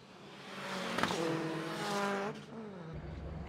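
Rallycross race cars battle for the lead in a six-lap final at Valkenswaard, one of them a Subaru. Engines roar loud and close with rising and falling revs, and a tyre squeal cuts in as the cars slide sideways past, then fade.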